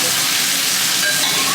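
Water poured into a hot karahi of lemon pepper chicken cooked with yogurt sets off a steady, loud sizzling hiss close to the pan.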